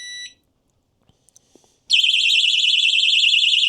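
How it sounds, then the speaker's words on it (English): A bike chain lock alarm, rated 130 dB: a short electronic tone, a few faint clicks, then a loud, piercing warbling alarm beeps continuously and rapidly up close. "Now it starts doing that beeping to let me know it's been messed with."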